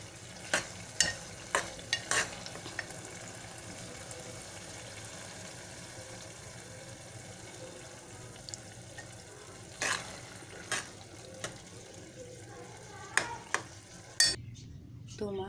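Turnip bhujia being mixed in a pan, with a low background sizzle and repeated sharp clicks and scrapes of a spoon against metal, coming in irregular bursts, close and clear.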